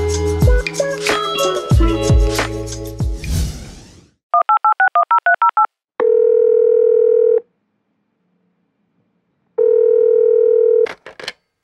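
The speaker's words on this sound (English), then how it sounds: "If you dial the Marburg phone code and then 28 5 times the 2, you will, for example, reach Inga." A telephone call is placed: a burst of fading musical notes gives way to a rapid string of dual-tone keypad beeps, then a long steady ringback tone, a silent gap, a second ring, and a click as the line connects.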